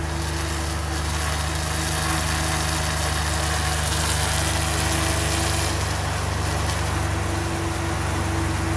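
A steady whooshing hum from a SPAL brushless car radiator fan runs continuously beside an idling engine, loud and close, with no speech.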